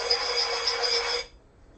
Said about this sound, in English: I need to sand the pieces down so they are nice and smooth and don't scratch your tables